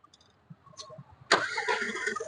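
A 2015 Volkswagen Polo Highline with about 69,000 km catching on a single crank: a short starter whirr after quiet clicks, then the engine firing and settling into a steady close idle.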